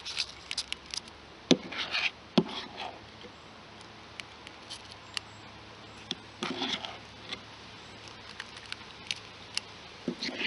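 Cupcake batter is scooped with a cookie scoop: soft, quiet squishes and scrapes with occasional sharp taps of the scoop against the pan, spaced irregularly and close by.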